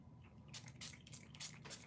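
A spray bottle of Florida water mix gives four or five quick, hissing spritzes in an uneven rhythm, soft and close in an otherwise quiet room.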